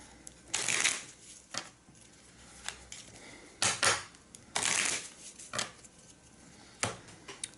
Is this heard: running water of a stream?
no